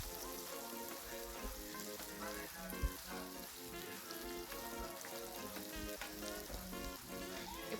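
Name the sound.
bitter gourd pieces frying in oil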